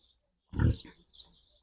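Pigs on a village farm give a single short, low grunt followed by a fainter second snort, close by and alone.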